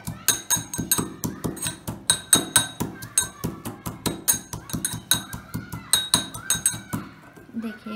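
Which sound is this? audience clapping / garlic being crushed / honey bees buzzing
garlic being crushed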